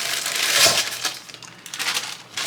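A small Ziploc bag of ice is pressed around an ice cream bowl, giving close crunching, crinkling shuffles of cubes shifting against plastic for a couple of seconds.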